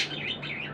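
Pet budgies, small Australian parrots, chirp in a brief high tweeting burst at close range, with no talk over it.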